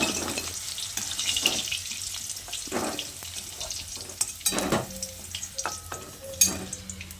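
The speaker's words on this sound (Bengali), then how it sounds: "আলুগুলোকে আমি ঠিক এইরকম লাল লাল করে আলুগুলোকে ভেজে নিতে হবে" Close crackling sizzle of potatoes frying in oil, with irregular pops and clinks of a utensil stirring the pan.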